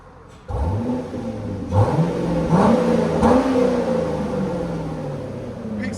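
A 2006 Chevrolet Corvette C6 with a 6.0L V8 and Borla S-Type exhaust revs repeatedly, with deep, loud rumbling blips rising and falling close by.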